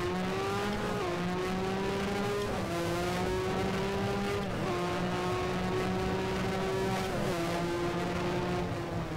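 1983 Formula 1 race cars howling around Sepang International Circuit in a racing game, a loud continuous high-pitched engine whine rising through gears with repeated shifts, close and unbroken.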